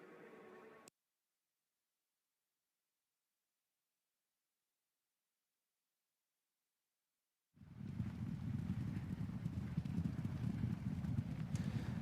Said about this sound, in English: Final horse will be the Ice Phoenix, who's making his way out onto the course now very shortly.